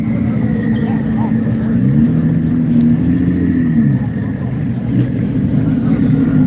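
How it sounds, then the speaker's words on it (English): A twin-turbo Nissan GT-R drag car accelerates at a drag strip, a loud continuous engine drone that rises and shifts in pitch, with an announcer talking over it. "Twin turbo GTR making some serious power."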